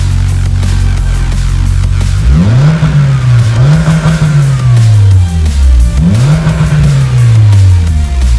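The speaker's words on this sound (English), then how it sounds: "Let's give it a couple revs" A car engine revs hard twice, pitch sweeping up and falling back, over a steady idle rumble with no talking.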